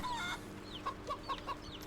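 A few quiet, spaced clucks from chickens in the video game Wytchwood, with faint chirpy bird notes over a low ambient hum.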